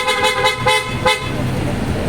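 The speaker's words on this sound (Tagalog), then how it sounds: "Napakalakas po ating bestseller na auto style horn po natin na" A loud PIAA auto-style car horn blasts in a series of short toots followed by a longer sustained honk, close and piercing.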